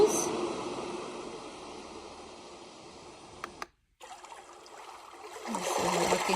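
A YogaSleep Nod sound machine plays a water setting, a steady trickling, streaming wash at moderate level that briefly cuts out midway and then resumes, swelling slightly louder at the end.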